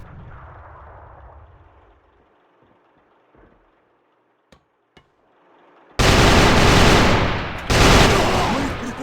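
Gunfire and explosions in the video game AVA during an esports final, a quiet stretch with a few sharp isolated shots, then a sudden loud, sustained burst of heavy firing that continues to the end.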